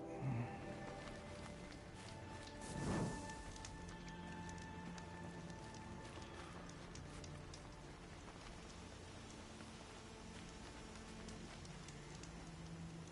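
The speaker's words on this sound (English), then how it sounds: "Rain's easing." Rain patters in Horizon Zero Dawn Remastered, a faint, even hiss of drops spread across the whole stretch, with a brief swelling rush near the start and soft game ambience beneath.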